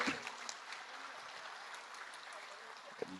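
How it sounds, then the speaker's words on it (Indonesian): Audience applauding for Bapak Subari, leader of Gema Desa, at a political support declaration event; steady, fairly distant clapping sustained throughout with a faint voice mixed in. "Kita tepuk tangan untuk beliau."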